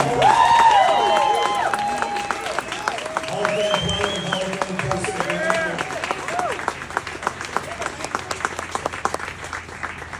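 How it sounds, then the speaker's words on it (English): A large crowd at a Cleveland Browns Hall of Fame celebration applauds and cheers for Joe Thomas, a steady roar of clapping under someone speaking over a microphone. "Big round of applause for Joe Thomas."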